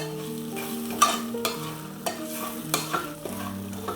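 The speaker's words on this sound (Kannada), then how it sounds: "ಇಷ್ಟೆಲ್ಲ ಹಾಕಿ ಮಸಾಲ ಪದಾರ್ಥನ ಒಂದ್ಸರಿ ಈ ರೀತಿ ಕ್ಲೀನಾಗಿ ಮಿಕ್ಸ್ ಮಾಡ್ಕೊಳ್ಳಿ." Masala spices being stirred in a cooking pot for egg biryani, spoon scraping in irregular strokes over a low steady sizzle, close by, no talking.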